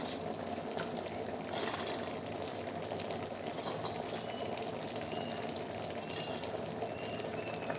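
Mixed vegetable curry simmering in a pot as lentil fritters are added, a continuous bubbling and sizzling with a few brief splashes and clinks, no voices.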